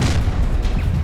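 A Confringo fire-spell blast in Hogwarts Legacy lands as a loud, deep boom with a rumbling tail that fills the whole second, with no other sound.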